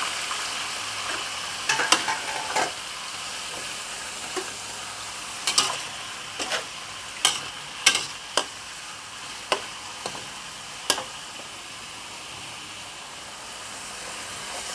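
Prawns, squid, fishball and mussels stir-frying in a wok, with a continuous sizzle under sharp scraping clacks of a spatula that come in irregular clusters.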